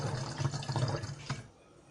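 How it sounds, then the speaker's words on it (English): Isopropyl alcohol is poured into a measuring vessel up to the 20 ml mark, a short close trickling splash that stops abruptly after about a second and a half. "and now I will pour this up to 20 ml"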